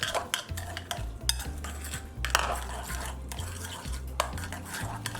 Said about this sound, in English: And then we mix together.